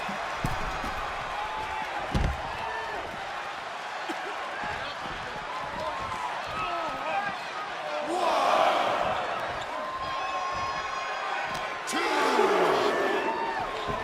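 A large wrestling crowd at La Défense Arena in Paris roars and cheers, swelling in loud waves over a steady background hum, with impacts thudding in between.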